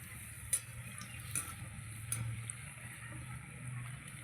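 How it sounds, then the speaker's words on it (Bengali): Jalebi frying in hot oil, a faint continuous sizzle with a low hum beneath and a few sharp clicks from utensils, no talking. "এইভাবে আমি জিলেপি ভেজে নেব।"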